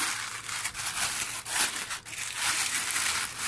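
A plastic bag crinkles and rustles steadily for a few seconds, close up, with no talking.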